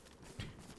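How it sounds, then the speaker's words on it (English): Player footsteps in the survival game DayZ: one brief cluster of muffled, hoof-like thuds near the middle, close but quiet, with no talk over it. "Because players make, see these footsteps, they sound like this"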